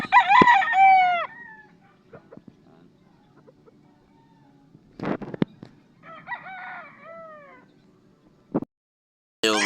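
A fighting rooster crows loudly and close by several times, each crow a long falling call, with short clucks and sharp bursts between them and quiet gaps in between.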